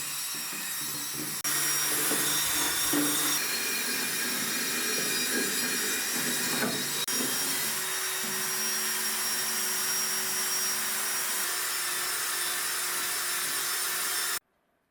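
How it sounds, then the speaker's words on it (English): A wire brush scrubs over a restored, century-old pot, making a loud, steady rasping scrape that runs unbroken for about thirteen seconds before stopping abruptly, with no talking. "a light pass with a wire brush removes any leftover residue"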